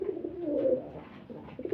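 A Lahori pigeon coos in a low, rolling, continuous burble, close and clear, swelling and fading over a couple of seconds.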